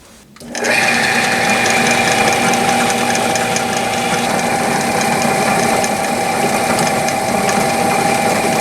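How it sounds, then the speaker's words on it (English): A steady mechanical whir and grinding hum of a drill press drilling a metal plate, running continuously after a brief quiet start, loud and close, with a constant motor tone. "let's head over to the drill press and get this one done"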